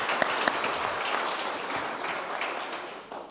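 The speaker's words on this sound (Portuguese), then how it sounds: "Uma salva de palmas." Seminar attendees give a short round of applause at the end of a talk on water production and preservation, moderately quiet and fairly steady, with a couple of sharper claps near the start before it thins out at the close.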